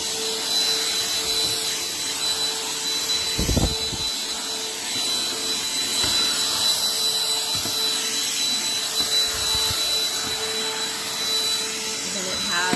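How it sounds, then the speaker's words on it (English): A BLACK+DECKER Dustbuster AdvancedClean CHV1410L cordless handheld vacuum runs with a steady, close motor whir throughout, broken by a few brief knocks and rubbing sounds. "Here's the BLACKDECKER handheld vacuum, and I just wanted to show you how powerful it is."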